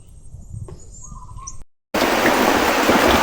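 Steady heavy rain falls at a farm house, a dense loud hiss that fills the second half after a brief silent cut; before it, birds chirp over a softer wet background.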